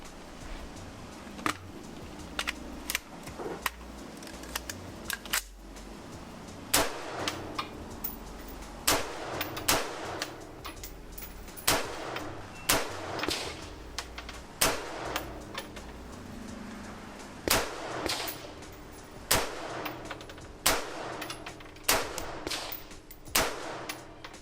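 Shots from an Anderson AR pistol fitted with a Viridian Flux 2K light ring out one at a time at irregular intervals, sharp loud cracks over a faint background.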